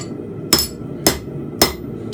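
Three sharp hammer blows ring out at even intervals, each a bright metallic strike with a short decay, as steel fence pegs are forged by hand at a blacksmith's anvil.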